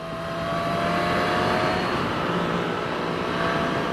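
A 2021 Suzuki Katana motorcycle engine pulls hard on the throttle during a night ride, a loud, steady roar with wind rush that holds for several seconds with no one speaking.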